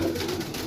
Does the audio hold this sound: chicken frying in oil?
no